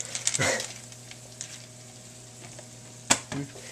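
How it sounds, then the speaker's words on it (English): Peas frying in a pan with bouillon give a steady low sizzle, with a couple of sharp scraping stir strokes near the start and the end, close and moderately loud, with no speech. "you want to keep on stirring this as you're going"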